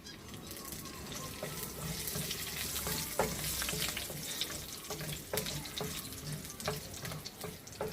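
Curry leaves dropped into hot oil for a Kerala spring onion thoran crackle and sizzle steadily up close, with scattered sharp pops and spits throughout, heard alone without talk.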